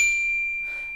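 A single low D struck on percussion bells (orchestra bells), a clear metallic ring already sounding and slowly fading over about a second, alone with no talking.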